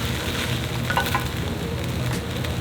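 JUST Egg plant-based liquid egg sizzles and fries in a pan for taco eggs, a steady, close crackling hiss with occasional scraping stirs.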